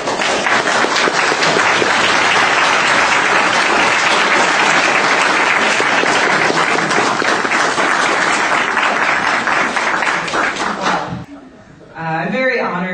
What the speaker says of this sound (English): Please give a huge round of applause to our keynote speaker, Rebecca Watson.